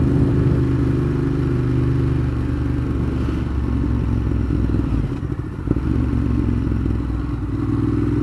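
A 2015 Ducati Monster 1200 with a Termignoni exhaust runs at a steady, loud, close pitch, a dense low drone with a brief dip and a thump midway.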